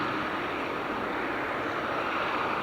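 Qatar Airways Boeing 777 at Manchester airport, a loud, steady jet engine roar close by that fills the whole stretch without a break.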